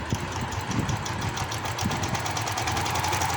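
A sewing machine stitches palazzo trouser fabric in a continuous mechanical run, a steady close whirring hum with rapid needle chatter and no pauses.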